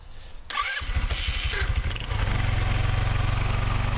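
A scooter engine starts after a brief rustle, sputters and catches, then settles into a steady, loud, close buzzing idle with no smoke reported; no one speaks.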